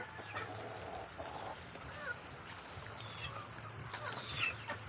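Chickens and a young pullet let outside cluck softly in a quiet outdoor yard, the faint calls scattered over low background noise.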